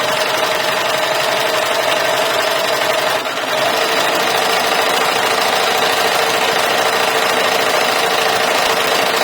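A sewing machine stitching along a zipper edge on a rounded half-moon pouch, with a loud, steady mechanical whir that runs without a break and is heard up close.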